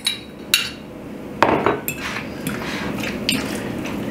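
Raw chicken pieces tossed and stirred through beaten egg in a bowl, with irregular clinks of a utensil against the dish and soft wet mixing between them, close up with no talking.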